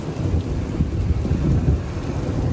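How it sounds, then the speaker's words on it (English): Steady heavy rain pours down during a thunderstorm with small gravel-sized hail, a dense continuous roar with low rumbling throughout, loud and close with no break. "It's raining hard where we parked our car."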